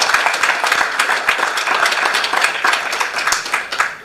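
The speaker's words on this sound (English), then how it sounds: "Can we just give all those speakers a big round of applause again?" Conference audience applauding the speakers at a stakeholder meeting, a full, steady round of clapping from many hands throughout, fairly loud and close, with little talk over it.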